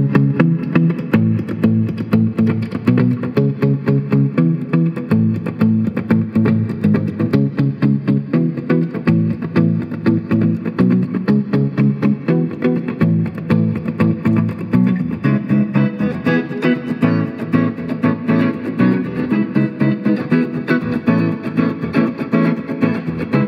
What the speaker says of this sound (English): we're out front with the Fender 12-string Stratocaster